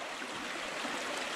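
Creek water rushing and crashing around fallen tree limbs outdoors, a steady broad close-up roar of flowing water with no voices.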